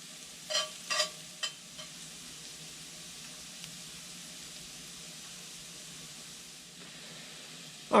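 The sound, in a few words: sautéing jalapeño in a pan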